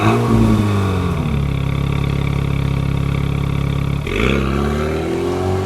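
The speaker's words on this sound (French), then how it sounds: "En mode sport, le moteur chambre." The engine of an Alpine A110 in sport mode revs hard on a closed road, climbing then dropping back to a steady drone before rising again, loud and close with a throaty exhaust.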